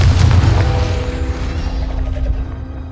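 A Confringo blasting curse exploding in a Harry Potter video game, a loud, deep boom at the start that decays into a rumbling tail with a faint lingering tone, heard on its own.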